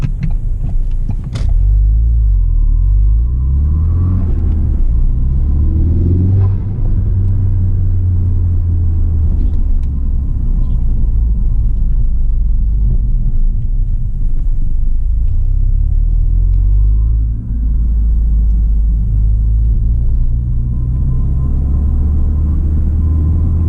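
Ford Focus RS mk3 engine and exhaust on the move, a loud, steady in-cabin rumble with low droning tones that rise and fall gently as the car drives along, no voices.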